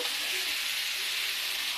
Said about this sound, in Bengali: এর সঙ্গে এছাড়টা ভেজে নেবো